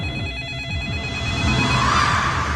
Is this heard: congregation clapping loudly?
no